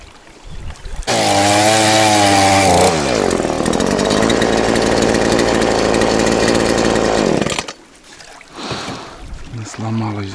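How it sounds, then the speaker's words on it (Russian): A chainsaw cuts logs while clearing fallen timber from a river. The engine revs up loud and close, holds a hard, steady whine through the cut for several seconds, then drops away, with voices nearby around it. "Вот тут надо пилить."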